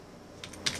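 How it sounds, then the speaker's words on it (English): A few quick keystrokes on a laptop keyboard after a near-silent start, light clicky taps close by with one sharper press near the end. "typing on laptop?"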